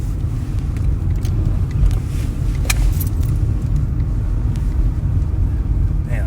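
Inside a moving car, a steady low engine and road rumble with wind buffeting runs continuously, broken by occasional light rattles and a jingle like keys, loud and close.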